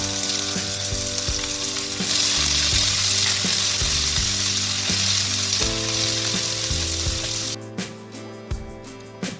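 Onion and chicken sizzle steadily in a hot pan with raw ginger and green chili, loud and continuous, with a stirring scrape now and then and busier clattering near the end; no one speaks.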